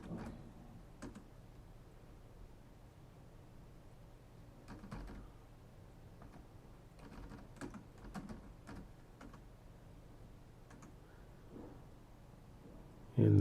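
Keys clatter on a computer keyboard during customer entry in a Stansoft business program, with soft scattered taps and short bursts of typing at close range under a quiet room hum.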